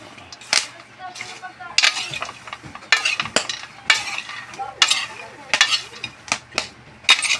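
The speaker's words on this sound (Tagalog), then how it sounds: "nakapit na maluto ang ating popcorn. Konting halo lang." Popcorn cooking in a pan as it is stirred, with repeated scraping and clinking of a utensil against the metal and scattered kernel pops, loud and close, with faint voice in the background.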